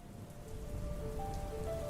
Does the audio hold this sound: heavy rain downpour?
yes